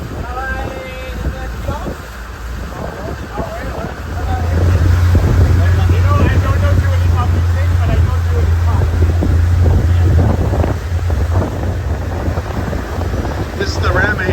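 A river boat in Bangkok travels along the water, its engine droning steadily under heavy wind buffeting the microphone, with a low motor hum swelling louder midway through the ride.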